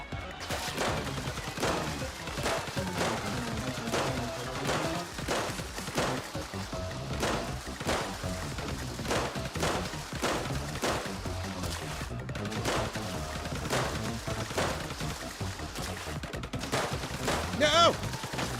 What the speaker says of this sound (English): I gotta shoot him now.